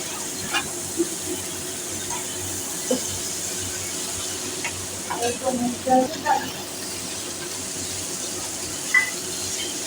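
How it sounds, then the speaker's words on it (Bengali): Low, steady sizzling of gandhapatali (gadal) leaves frying in a pan, with scattered clicks and scrapes of stirring, close by and without talking. "এটাকে আমি ভেজে নেবো ভালো"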